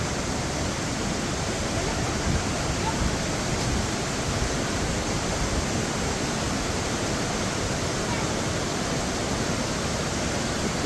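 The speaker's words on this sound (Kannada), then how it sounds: "ವಾಟರ್ ಫಾಲ್ ಅಲ್ಲ ಆಕ್ಚುಲಿ ನದಿ, ಸಾರಿ ನೋಡಿ." A river rushes past in a continuous, loud roar with no breaks, heard close and alone in the open air.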